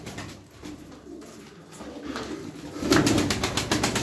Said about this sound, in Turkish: Kanat sesine bakın.